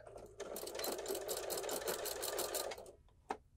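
A sewing machine stitches an envelope-closure pillow in a steady, fast mechanical whir for close to three seconds, then stops, leaving a couple of faint clicks at close range with no talking.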